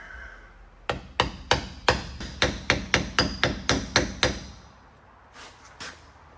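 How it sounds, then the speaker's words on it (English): A brass hammer taps a large socket, used as an installer, to seat an exhaust part. About fourteen sharp metallic taps come at a steady, quick rhythm and fade into a quiet pause, with two soft knocks at the end. "my installer will be a very large socket and my brass hammer. I'm just going to tap this into place very carefully here."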